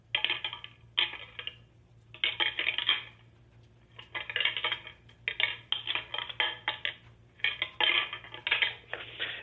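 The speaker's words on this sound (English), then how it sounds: "what I have in my hands right now are some real antlers, probably from a 2 or 3 year old buck. And this is what it sounds like," Real antlers from a two- or three-year-old buck are clashed and ground together as a deer-hunting rattle call, giving loud, close bursts of clicking, clattering bone in irregular rhythmic bouts separated by short pauses.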